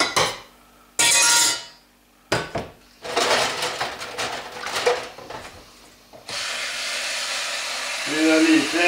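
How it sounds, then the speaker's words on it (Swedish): Cutlery is rinsed by hand in a pot at a sink, with bursts of running tap water, clattering metal utensils and scraping against the pot, ending in a steady stream of water. "Nu kan jag ju skölja besticken i en gryta."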